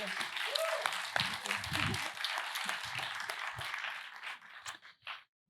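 Applause from the audience at a design forum in Kaunas, a steady wash of many hands clapping for several seconds, moderately loud and close, tapering off near the end, with brief voices heard early on.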